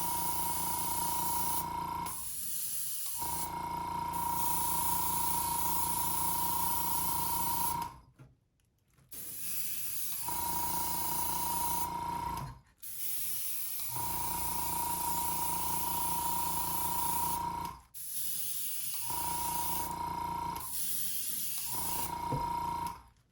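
An aerosol spray can hisses in repeated bursts of several seconds each, separated by short silent gaps, as paint goes onto a palm frond loon decoy at close range.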